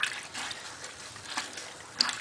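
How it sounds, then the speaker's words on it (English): Sponge being rinsed and squeezed in a container of water during cabinet making, with soft intermittent splashes and trickles, fairly quiet and close, no talking. "I'm just going to wash my sponge because it's getting a lot damp."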